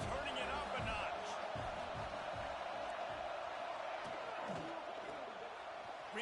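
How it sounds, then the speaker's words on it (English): A football stadium crowd swells in a steady, loud roar at a Wisconsin versus Penn State game, with a busy wash of cheering and shouts that does not let up. "this crowd is turning it up a notch"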